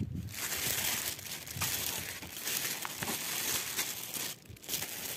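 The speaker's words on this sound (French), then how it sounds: "on va déballer pour éviter aussi le bruit du sachet" A plastic bag crinkles and crunches in bursts while a parcel is unpacked, close and fairly quiet, with irregular rustling pulses and brief pauses.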